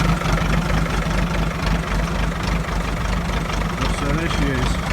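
A tractor engine with fuel injection idles steadily up close, its low rumble continuous with a slight rise and fall from a hunting throttle.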